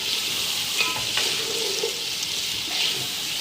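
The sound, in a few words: frying peas with masala in a pan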